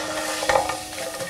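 Fried chicken pieces in sweet bean sauce being stirred in a hot wok over low heat, a short burst of scraping and sizzling with a louder stir in the middle, heard alone.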